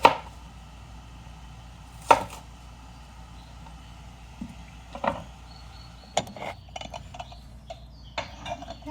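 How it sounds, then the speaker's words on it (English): Knife chopping onions thinly on a board for pickling, a handful of sharp isolated cuts spaced a second or two apart, close and clear over a quiet room. "you can cut them fairly thinly if you'd like them to be more pickled and soft"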